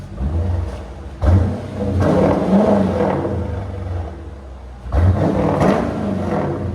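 A Dodge Durango R/T's HEMI V8 through Flowmaster Outlaw exhaust revs hard up close, with three loud throttle blips rising and falling over a steady rumble.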